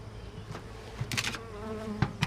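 Honey bees buzz around an open hive that may have swarmed, a dense close drone with individual bees zipping past the ear in brief louder passes.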